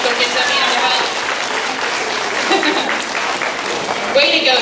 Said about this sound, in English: All right, give him a big round of applause.